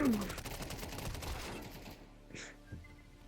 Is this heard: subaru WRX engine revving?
no